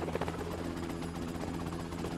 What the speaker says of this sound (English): We called in the chopper.